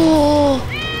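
A cat gives a single short meow that slides downward, then a fainter higher squeak follows, close and clear.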